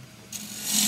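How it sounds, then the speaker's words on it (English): A bowl gouge cuts into forest sheoak spinning on a lathe, giving a brief close rasping scrape that swells louder toward the end. "open this up with, I can use the bowl gouge to start with"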